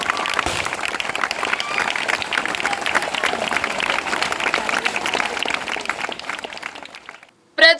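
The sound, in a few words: crowd applauding at a BJP event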